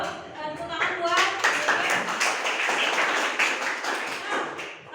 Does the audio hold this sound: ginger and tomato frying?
no